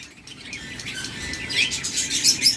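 Pineapple conures chirping close by, several sharp high tweets and squeaks in quick succession against a soft background rumble.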